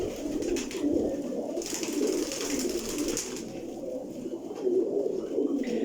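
A large flock of around 300 pigeons coos steadily in a loft, a dense, continuous layered murmur of low throaty calls with no talk over it.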